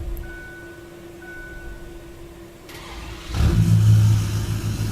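A Cummins truck engine in Farming Simulator 19 cranks and catches partway through, its loud, deep rumble settling into a steady, heavy idle after a stretch of quiet ambient hum.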